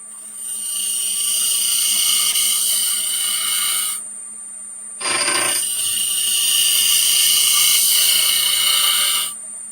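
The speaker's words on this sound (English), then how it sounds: "Going back to my regular spindle roughing gouge." Wood spun on a lathe and cut with a spindle roughing gouge gives a steady high whine with a scraping, chattering texture, broken by a brief pause as the tool lifts off before another long pass.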